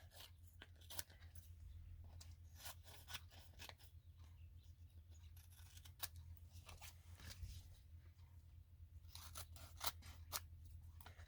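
Scissors snip through excess masking paper for a room scene stamping project, a run of quiet, close, irregular cuts and rustles over a low steady hum.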